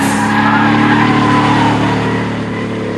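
A car fitted with a Jaguar XKR's five-speed Mercedes gearbox is slid around corners, its engine a loud, sustained drone with a steady throaty rumble for the whole stretch, easing slightly toward the end.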